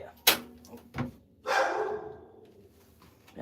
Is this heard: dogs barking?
yes